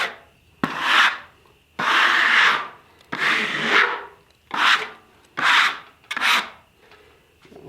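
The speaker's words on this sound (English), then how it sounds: "So nice sawing right here" A Wood-Mizer sawmill blade cuts through a walnut log in repeated bursts, each a loud, bright rasping pass about half a second to a second long, separated by brief quiet gaps, smooth with little chatter.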